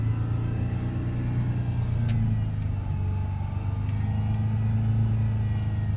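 A Range Rover 3.0 engine with an intake air leak runs steadily under load, a loud, continuous low rumble that rises slightly without any sharp rev peaks; brief faint clicks sound over it.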